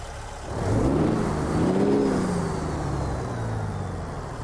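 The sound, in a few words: Cat C15 truck engine starting, American Truck Simulator video game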